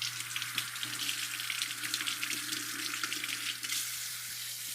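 Tap water runs in a steady hiss over peppers being rinsed in a kitchen sink, constant and close, with a low hum underneath and no talking.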